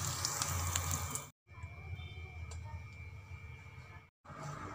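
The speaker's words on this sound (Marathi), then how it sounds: "आता गॅस बंद करून टाकायचा आहे आणि ही फोडणी यावर टाकून घ्यायची आहे मस्त" Hot oil tempering with cumin, green chili, asafoetida and turmeric is poured over carrot salad, giving a soft, steady sizzle and crackle that runs close and quiet, broken by short silent cuts.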